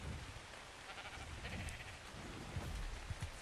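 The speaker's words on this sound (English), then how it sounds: "Got some sheeps." Sheep bleating faintly in the game ARK Survival Ascended on the Ragnarok map, distant calls set in a soft, rain-like hiss with no one talking.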